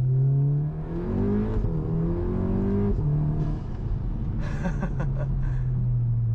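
A car fitted with a DSG gearbox, its exhaust valves open and the DSG crackle enabled, revs loudly and climbs through gear changes, the engine note stepping between shifts, with a run of sharp crackles near the end.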